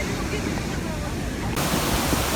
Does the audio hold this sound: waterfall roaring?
yes